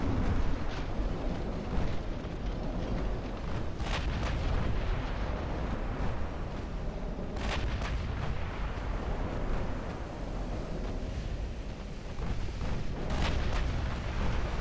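Naval 8-inch guns firing in the Ultimate Admiral Dreadnoughts game, heard as a dense, continuous rumbling barrage punctuated by several sharp, loud blasts spread across the scene.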